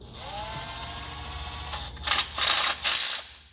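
A wrench snugs down the last bolt on an aftermarket PPE lower oil pan of a Ford 6.7 diesel engine: a faint steady whine gives way to three short, close bursts of ratcheting clicks.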